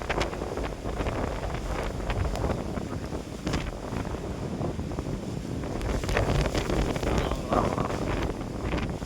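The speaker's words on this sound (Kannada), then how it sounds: "ಬೆಂಕಿ ಬಿರುಗಾಳಿ ಥರ ಇದು. ಬರೀ ಬಿರುಗಾಳಿ ಮಾತ್ರ," Heavy gusting wind at Kotebetta in Coorg batters the microphone in a constant roar, swelling stronger toward the end.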